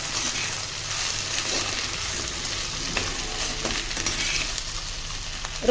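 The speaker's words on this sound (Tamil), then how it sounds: "நல்லா கழுவி கட் பண்ணி வச்சுருக்கேன் வெண்டைக்காவை சேர்த்துக்கோங்க" Okra sizzles and fries in a pan with a little salt for a home-style vendakkai puli kozhambu, a steady crackling hiss close up, broken by faint stirring scrapes and with no voices.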